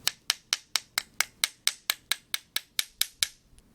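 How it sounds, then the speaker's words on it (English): A hammer striking a pin into a Well G96 airsoft rifle bolt, fourteen sharp, evenly spaced metallic taps in quick succession, close and loud, ending with one faint tap. "just hammer it back in"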